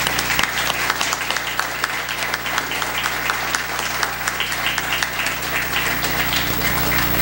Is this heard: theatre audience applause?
yes